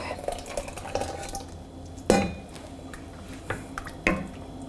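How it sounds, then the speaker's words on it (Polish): Sour cream mixture poured into a pot of mushroom soup, with soft liquid sounds, a few clinks of a spoon against the pot, and faint background noise. "Dodajemy zupy i wlewamy to do zupy."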